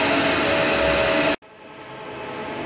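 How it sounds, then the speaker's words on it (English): Industrial pre-dryer unit beside a raw-material feed hopper, a loud steady broadband roar with a faint tonal hum, dropping suddenly to a brief near-silence and then building back into a lower, softer rushing drone. "This is the pre-dryer unit and this is the feed hopper for the raw material going in."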